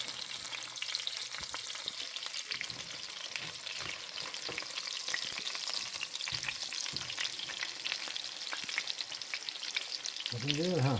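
Chicken patty rings set inside bell pepper rings fry in a pan, giving a steady close crackling sizzle with scattered sharp pops throughout and no talking.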